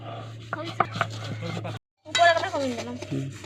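Small fish being ground with garlic, chili and salt on a grinding stone, giving rough scraping and knocking strokes close by, with a brief pause midway and a voice speaking over the work.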